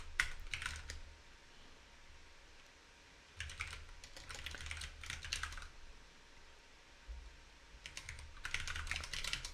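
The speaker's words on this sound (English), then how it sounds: "Pardon me for my chaotic typing here." Bursts of rapid typing on a computer keyboard during live coding, close and crisp, arriving in three clusters of quick key clatter separated by quieter pauses.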